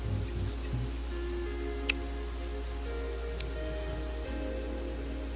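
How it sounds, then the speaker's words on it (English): Rain falls steadily on a porch as a soft, even wash with scattered ticks and drips, accompanied by a low constant hum and no talking. "We're just enjoying the rain."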